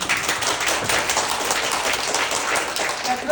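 Audience at a seminar applauding, a dense, steady burst of many hands clapping that continues evenly throughout.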